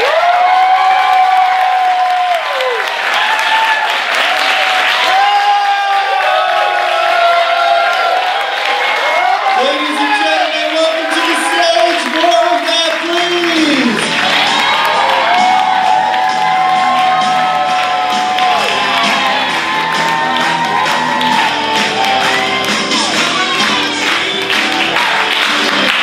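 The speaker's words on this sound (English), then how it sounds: "let's just practice our applause skills and give me a real big shout" A live improv show audience claps and cheers loudly and continuously, with whoops and shouts rising over dense applause that swells and holds throughout.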